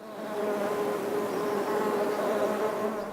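Honeybees at a hive in Nigeria make a steady, dense buzz, close and continuous, with no voices over it.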